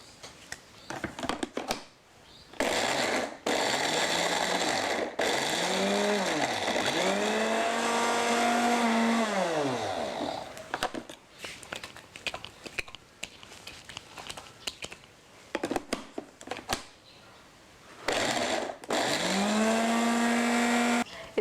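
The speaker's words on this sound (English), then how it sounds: "and blend it" A kitchen blender grinds grated coconut with vegetable oil in several loud bursts, its motor whine rising and falling in pitch between short pauses.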